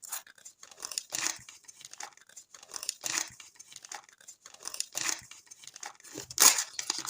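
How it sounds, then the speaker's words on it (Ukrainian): Dry plastic-paper crinkling as a small packet is torn and opened, in several sharp bursts with brief pauses, close by and fairly loud, no talking. "Відкриваємо наш з вами ось такий ось пакетик."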